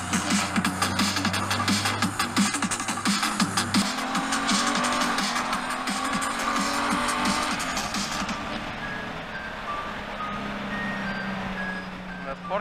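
A 2018 Honda Gold Wing motorcycle in sport mode hums steadily at close range, its engine tone rising as it pulls ahead, with a brief pitch shift partway through and steady road noise throughout.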